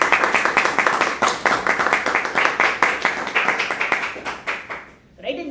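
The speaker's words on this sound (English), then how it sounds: "I think he deserves a round of applause" A room of meeting attendees gives a round of applause, dense clapping at a steady rapid patter that thins out and stops near the end, with a voice starting right after.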